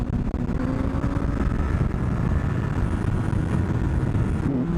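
A motorcycle engine drones steadily with heavy wind rush, a constant close roar of riding at speed on a hot day.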